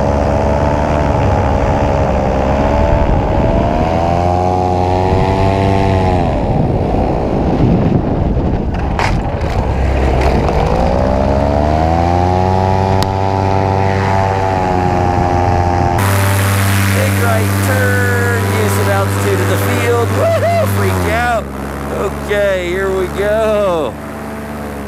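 A 2018 paramotor air trike's engine and propeller at full throttle, a loud, sustained buzzing roar with sweeping pitch that rises and falls through the run, with someone speaking over it and an abrupt change near the end.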